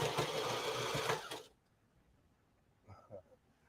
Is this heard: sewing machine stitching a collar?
yes